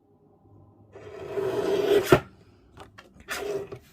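A piece of card being cut for a handmade Father's Day card, heard as a rising close cutting rasp that ends in a sharp snap, then a couple of brief handling sounds.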